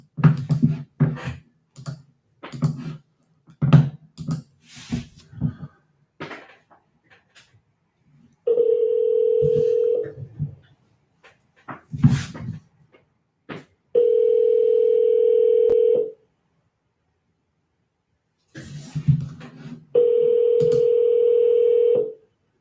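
Phone keypad buttons are tapped in quick separate beeps to dial a landline, then a steady ringback tone sounds in three long evenly spaced bursts with silence between.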